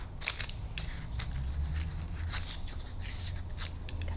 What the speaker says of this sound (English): cut the width, and you can cut all 4 of those at once